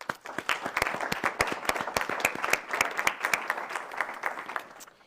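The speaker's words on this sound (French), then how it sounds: "Alors félicitations et une bonne main d'applaudissements." Applause at a city council session honoring award recipients, a lively round of crisp hand claps from the attendees that builds quickly, holds, then tapers off at the end.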